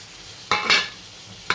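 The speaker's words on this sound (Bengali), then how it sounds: "এবার আমি আদা বাটা আর টমেটো একসঙ্গে দিয়ে দেব" Ginger paste and tomato hit a hot pan and sizzle in two or three short, sharp bursts, with quick stirring in between and a quieter hiss underneath.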